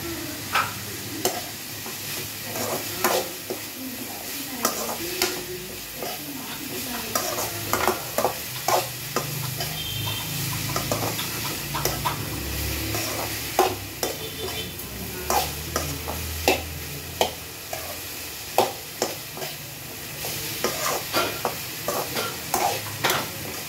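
Onions frying in a pan for a vegetarian lunch: a steady low sizzle runs throughout, broken by frequent sharp spoon taps and scrapes against the pan, close and fairly loud, with no talking.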